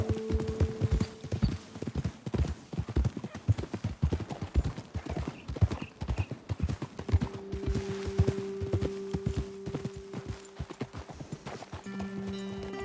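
Horse hooves clip-clop in a steady, brisk rhythm in a PS5 video game, close and fairly clear, with faint background tones; the hoofbeats continue for the whole stretch.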